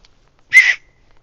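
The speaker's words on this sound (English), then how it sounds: "Let's see if the whistle still works." A single short, shrill blast from a willow bark whistle, close and fairly loud, lasting about a quarter second against near silence.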